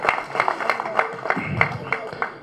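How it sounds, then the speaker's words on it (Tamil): Audience clapping at a Tamil movie audio launch, a run of distinct, fairly sparse claps with an irregular rhythm, close and moderately loud, with a voice briefly underneath. "நல்ல கைத்தட்டு கொடுங்க எங்கள் ஹீரோக்கு"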